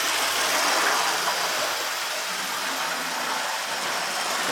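Two Hornby DC model locomotives running flat out on track, giving a continuous, thin high whine and rattle, steady and close with no voices.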